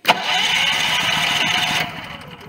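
A Firman portable generator engine cranks and catches, settling into a steady, loud mid-pitched running roar for about two seconds before cutting back abruptly, with no talking.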